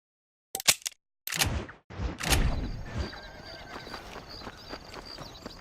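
A horse in the Red Dead Redemption video game lets out a loud neigh, followed by a few sharp hoof clip-clops and a trailing whinny that fades into quieter game ambience.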